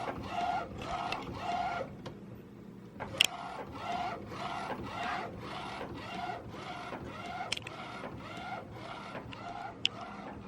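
A direct-to-film (DTF) printer runs its head cleaning cycle with a steady, rhythmic series of mechanical pulses and whirring passes, punctuated by a few sharp clicks; loud, close and without speech.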